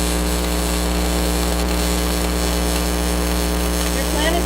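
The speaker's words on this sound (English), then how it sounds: "I'm going to scratch it to establish the arc, and then I'm just going to weld along a little bit" Stick welding arc on steel, a loud continuous crackling hiss that holds steady and close throughout, with a faint hum underneath.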